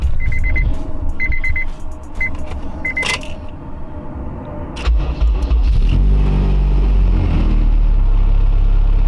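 Acura RSX engine with an exhaust silencer cranking and starting, then settling into a steady idle close by, after a few seconds of sharp clicks and beeps from the car.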